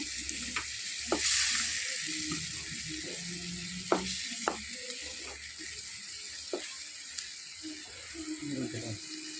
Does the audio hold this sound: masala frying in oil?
yes